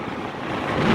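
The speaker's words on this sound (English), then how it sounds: "Oh, windy." Wind buffets the microphone outside a bookstore in Regina, Canada, in a low, rumbling rush that grows slightly stronger, with no voices.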